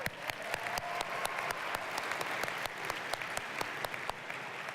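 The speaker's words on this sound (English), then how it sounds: "I just think you need to give yourselves a warm applause for being here" A rally crowd on a Sunday afternoon claps warmly, individual sharp claps standing out over a steady wash of applause, fairly close and even in loudness.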